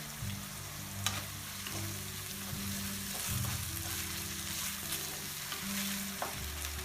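Steady sizzling of vegetables frying in a pan with tomato ketchup, with occasional soft scrapes and taps of a spoon stirring, continuous and close.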